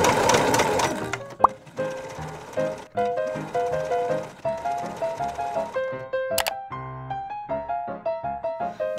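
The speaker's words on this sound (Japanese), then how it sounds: "今回ミシンだから本当にサクサク縫います" A sewing machine stitches patchwork squares in quick, even bursts of rapid mechanical clatter, stopping and restarting several times, close and fairly loud with music in the background.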